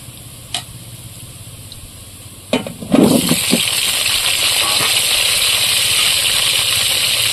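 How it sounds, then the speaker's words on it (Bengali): Potatoes drop into a hot pan for village-style desi chicken curry: a few sharp clinks, then a loud, steady sizzle that holds to the end. "ভাজা হয়ে গেছে, এবার আমি আলু দিয়ে দেবো।"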